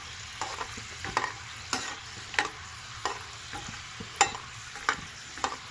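Cabbage pakoda fry in hot oil under a steady, fairly quiet sizzle, while a spatula stirs them with repeated light scrapes and taps at an uneven pace; nobody speaks.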